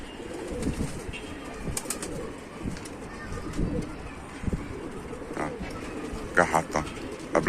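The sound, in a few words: pigeons cooing in a loft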